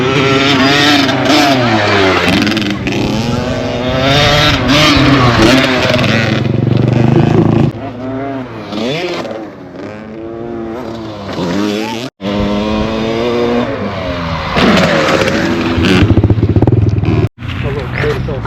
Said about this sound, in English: we just got done riding dirt bikes today